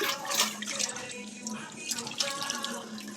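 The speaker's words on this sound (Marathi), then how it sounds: "आता आपण शिजवलेल्या याच्यामध्ये थोडंसं पाणी टाकून याच्यात टाकून देऊया." Water trickles and splashes into a pot of cooked vegetable curry, a soft, quiet pouring with small drips and splatters close by.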